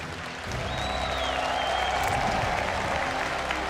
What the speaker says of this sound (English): There's the power of that Polish crowd, Roddy.